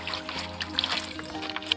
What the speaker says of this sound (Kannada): ಮಜ್ಜಿಗೆ ಮೆಣಸು ಮಾಡಲಿಕ್ಕೆ ನಾವು ಮೊದಲು ಮೆಣಸಿನಕಾಯಿಯನ್ನು ತೊಳೆದುಕೊಳ್ಳುವ